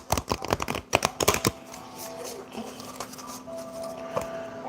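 Playing cards riffle-shuffled up close, a rapid flurry of crisp flicking bursts in two quick runs, followed by quieter rustling and a faint hum.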